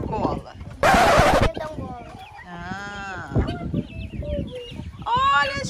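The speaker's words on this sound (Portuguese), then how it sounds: "É galinha da Angola." Guinea fowl calling at a farm among chickens: harsh, repeated squawking calls, fairly close, mixed with clucking and people talking.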